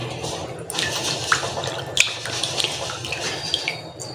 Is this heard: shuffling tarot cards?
no